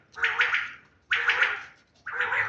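Three harsh, raspy bird calls in a row, each about a second long, loud and close, with short pauses between them.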